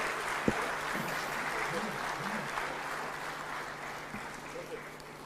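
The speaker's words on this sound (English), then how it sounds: "a bigger round of applause to our distinguished presidents" A crowd at an East African heads-of-state summit applauds the visiting presidents. A broad, moderately loud wash of clapping runs continuously, with a single sharp knock early on and faint voices beneath it.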